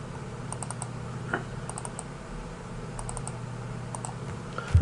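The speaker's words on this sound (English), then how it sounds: "So when I type Java version" Short clusters of keystrokes on a computer keyboard tap out a command, light and close, over a low steady room hum.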